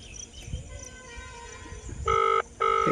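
A phone ringback tone sounds twice in short, even bursts near the end, after quiet background hum.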